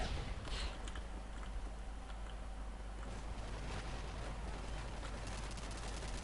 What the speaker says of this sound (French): Niessé qui essaie de tirer sur lui.